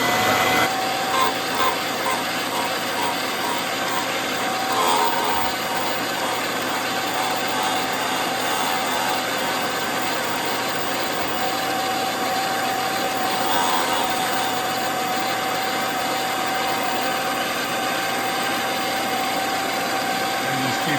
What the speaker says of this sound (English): We turn on the grinding stone